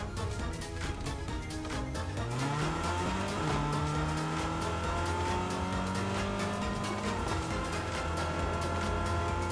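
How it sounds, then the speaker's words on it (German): Car driving in the video game Fortnite, with an engine revving and climbing in pitch as it accelerates, plus tire noise, loud and continuous throughout with no talking. "Hier ist ja schon ein Auto."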